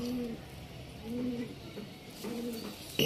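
Pigeons kept for tournament racing give three rounded, throaty coos in a steady rhythm, close by, with faint background noise between calls and no talking.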